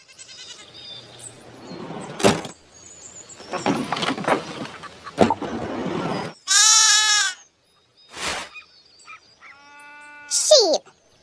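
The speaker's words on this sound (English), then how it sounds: "Sheep." Several short, loud bleats from a sheep ring out among other noisy farm-animal sounds, some wavering and drawn out, with silent gaps between them.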